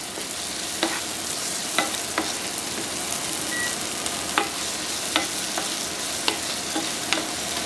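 Scallops are stirred in a Calabrian chili tomato sauce with kosher salt in a pan, giving a constant bright sizzle broken by periodic sharp scrapes of the utensil. No talking.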